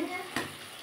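A spatula presses softened tomatoes in a pan for a moong dal and soybean dish, one short scrape rising over a soft, continuous sizzle.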